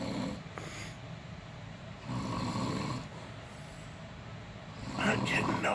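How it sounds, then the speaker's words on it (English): Someone asleep snores in a room at night, slow rasping breaths rising and falling in long cycles, fairly close and steady, with a louder snort near the end and no talk over it. "Imagine trying to sleep with my brother in the room and his snoring."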